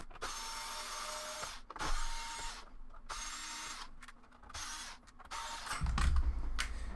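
Screws being backed out of a PS5 console with a power driver, giving short bursts of mechanical whirring and ratcheting broken by pauses, close up and moderately loud, with a heavier low thump near the end.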